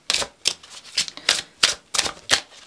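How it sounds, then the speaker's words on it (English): Tarot cards are shuffled by hand in about seven quick, crisp riffles, each a short papery flutter, close and fairly loud. "let me get a little more hand shuffling"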